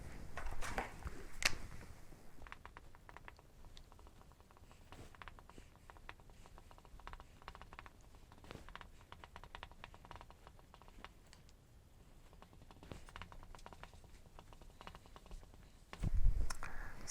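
Phrases written by hand on a board in a quiet room, a run of faint, irregular taps and scratches from the marker or chalk that stops and starts, with louder handling noises at the beginning and end.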